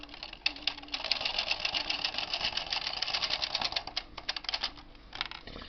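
A Bond Incredible knitting machine carriage pushed across a row, a busy clattering rattle of needles running steadily for several seconds, with a brief pause and a final burst near the end.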